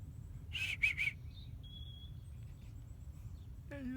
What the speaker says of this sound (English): you hear the chickadees